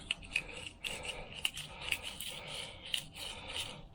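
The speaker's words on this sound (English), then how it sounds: "Just cleaning out inside the casing." Small scraping and rubbing strokes come from cleaning out the inside of a car brake switch casing, quiet repeated scratchy passes close by with no talk.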